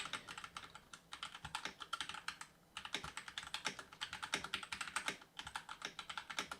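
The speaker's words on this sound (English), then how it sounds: "I am using Gatoran Brown switches on my keyboard, and it's a slightly loud switch" Close, fast typing on a mechanical keyboard with Gateron Brown switches, a dense run of moderately loud clacks with brief pauses between bursts, picked up by a boom-mounted Fifine K658 USB microphone.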